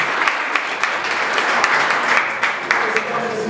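Audience applause and ovation at a gala party in Moscow, steady dense clapping from a crowd that stays even and loud throughout, with scattered sharper claps standing out.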